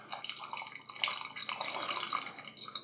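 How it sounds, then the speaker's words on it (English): Liquid from homemade turkey stock drips and trickles as it drains into a pot, a continuous patter of small splashes close by with no talking. "it's dripping"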